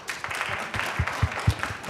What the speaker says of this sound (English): That sounded like a bit of a pity clap to me.